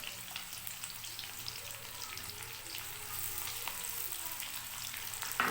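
Chopped onions fry in a pan with a constant crackling sizzle that grows slightly louder toward the end, with no talking.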